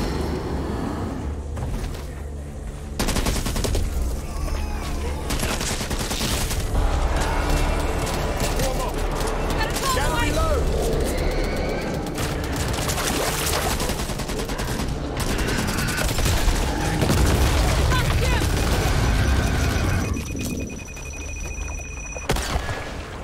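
Sustained video game gunfire in Back 4 Blood, with friendly fire among teammates: dense bursts of rapid shots and booms fill nearly the whole stretch, loud and close, with character voices calling out over the shooting.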